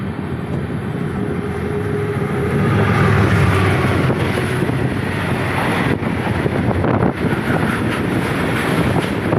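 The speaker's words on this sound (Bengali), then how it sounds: "ট্রেন, দেখি কি ট্রেন।" A train passes close by at dawn beside sugarcane fields near National Highway 19, a loud, steady rumbling roar that swells in the middle and carries on throughout without any talk.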